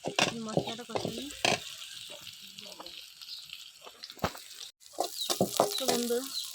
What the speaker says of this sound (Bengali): আমার পেঁয়াজটা অনেকটা ভাজা হয়ে গেছে, আর বেশি ভাজবো না।